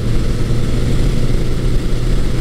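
A 1980s Honda CB900C motorcycle cruises in top gear at about 60 mph and 3,700 RPM, giving a steady, smooth engine drone mixed with wind rush that holds even throughout.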